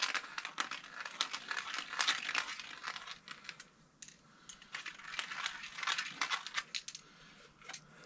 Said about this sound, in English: I'm going to ream the ends here.